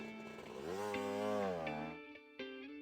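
A revving motocross motorcycle engine from a children's vehicle repair game, a buzzy harmonic whine that climbs and falls for about two seconds before dropping to quieter game tones and clicks.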